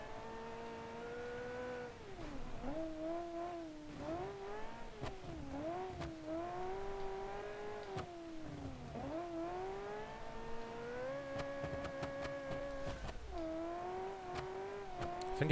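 Rally car from the 1984 classic rally season driving fast through a sharp corner, engine note dipping and rising as it brakes and accelerates, a steady close whine throughout.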